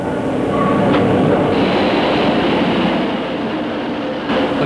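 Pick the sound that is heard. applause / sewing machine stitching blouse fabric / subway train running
subway train running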